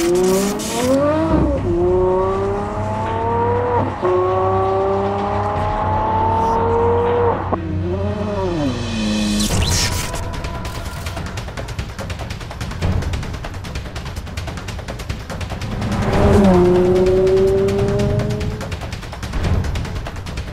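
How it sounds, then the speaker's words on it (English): Aston Martin One-77 driving with its engine note climbing through several gear changes, then a sharp burst of crackle and a fresh rev later, loud and close with no talking. "When you finally see the car moving, there's an amazing sound to the engine"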